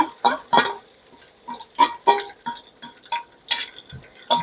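Chili, ginger and garlic tipped into a hot frying pan and stirred, giving a run of close, irregular clatters and scrapes of utensil on pan over a faint sizzle, with no talking.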